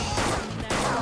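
Gunfire rattles off in a rapid, loud burst during a gun attack in the battle game Persona 5 Royal, breaking briefly before another volley starts.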